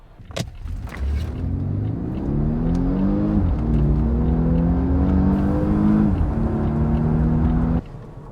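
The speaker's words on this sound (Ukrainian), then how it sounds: "Зараз ми заміряємо розгін до сотні." A Volvo S AWD turbo car launches from a standstill to 100 km/h, its engine roaring loud and close from inside the cabin as it climbs through gear changes before easing off near the end.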